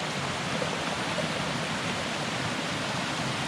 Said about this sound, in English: you do have to deal with this little waterfall that crosses the trail somewhat